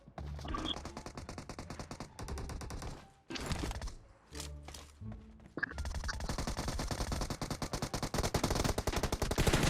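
Automatic gunfire in PUBG Mobile, loud, rapid rattling bursts that pause with a few scattered shots in the middle, then resume as sustained fast fire that grows heavier toward the end.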